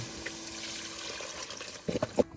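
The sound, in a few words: pouring vegetable stock into a pan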